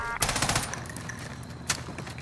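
Rapid bursts of automatic gunfire crackle in a shooter video game, a dense volley up front followed by a brief pause and a single sharper shot near the end.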